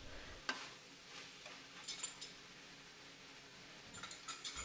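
Chicken for Thai basil chicken is stirred in a pan with a spatula, giving soft, intermittent scraping clicks and a faint sizzle, close by and fairly quiet, with no talking.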